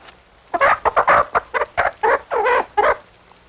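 A plump six-pound hen clucks in a quick run of about a dozen short, loud, close calls, each sharp burst separated by brief gaps, heard alone without talk.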